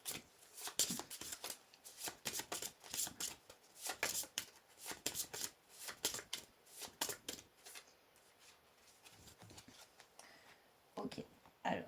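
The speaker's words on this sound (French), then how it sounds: "battre les cartes." A deck of tarot cards is shuffled close by with quick, soft riffling and slapping bursts that repeat irregularly for several seconds.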